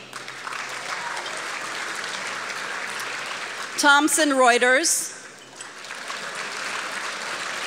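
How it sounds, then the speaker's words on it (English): Audience applause at the ITW ThrillerFest Awards Banquet 2014, a steady, moderate wash of clapping filling the room while someone briefly speaks over it. "Let's all give everyone a round of applause."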